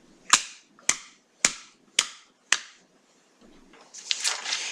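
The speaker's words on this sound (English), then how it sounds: "if you take a pipe and you put an end on this side and hit the pipe on this side, it'll make a noise" A pipe struck on one end gives five sharp, evenly spaced knocks about half a second apart, each ringing briefly, followed by a soft rustling.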